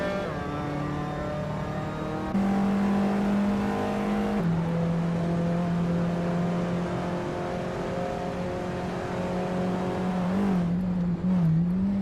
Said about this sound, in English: Kingrut is driving a 1967 Toyota 2000 GT, a classic sports car.